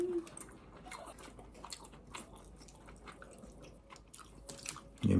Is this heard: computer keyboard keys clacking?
no